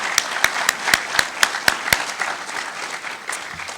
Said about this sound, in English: I want to give them a round of applause for everything they've done so far to put this event on